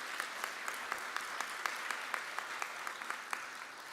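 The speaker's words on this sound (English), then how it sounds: "please share your applause for her" An audience at an academic convocation applauds steadily, a dense patter of many hands clapping at moderate distance for several seconds, without speech over it.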